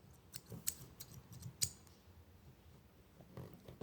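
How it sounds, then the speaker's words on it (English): Scissors used for crochet with green yarn snip a few times, giving quiet, sharp clicks spaced irregularly over faint background noise. "and some scissors."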